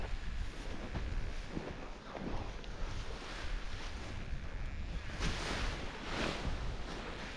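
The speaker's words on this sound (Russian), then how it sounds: "ветер сильный такой" Strong wind on the Ai-Petri plateau buffets the microphone in a steady, rushing roar with gusty surges throughout, no voices present.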